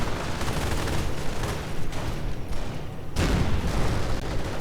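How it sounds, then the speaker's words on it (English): Strafing-run gunfire rips through a World War II strategy game battle, dense rapid bursts of machine-gun fire and rumbling impacts, loud and continuous with a short lull before a heavier barrage. "seeing a strafing run getting called in"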